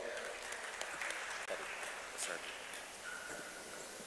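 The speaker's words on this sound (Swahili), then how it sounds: "Naomba makofi mengi kwake" Audience applause at a primary health care meeting in Tanzania, a steady broad wash of clapping that holds at an even level for several seconds with no pause.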